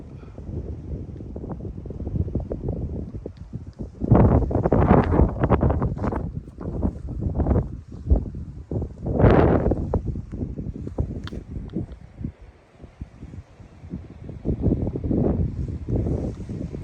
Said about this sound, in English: Pretty windy and trying to rain though.